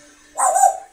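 Small dog giving a single short, sharp bark up close, loud and abrupt against a quiet background.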